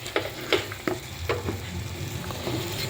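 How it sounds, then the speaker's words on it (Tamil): Masala being stirred in a pan for a Tamil dried fish curry (karuvattu kulambu), a steady low sizzle under a few sharp scrapes and taps of a spoon against the pan, close and moderately loud. "நம்ம ஆட் பண்ண மசாலாலாம் நல்லா கிண்டி விடுங்க"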